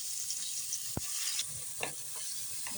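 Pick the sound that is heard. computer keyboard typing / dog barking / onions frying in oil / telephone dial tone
onions frying in oil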